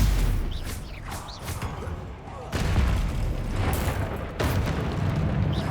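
Spell blasts from Bombarda and Confringo in the Hogwarts Legacy game erupt as loud, booming bursts of magical combat, two sharp onsets cutting through a dense, continuous roar of battle noise.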